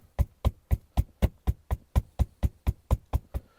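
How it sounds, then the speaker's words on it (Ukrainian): A jar filled with sunflower seeds is tapped against a surface to settle the seeds, about thirteen steady, evenly spaced dull knocks, close and fairly loud, with no talk. "Отак постукати, щоб вона сіла."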